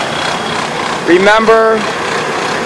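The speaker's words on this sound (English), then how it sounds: "the sound of this engine before the thermal treatment" A worn junkyard car engine with blow-by, running before a thermal treatment, idles with a steady, even drone while someone briefly speaks over it.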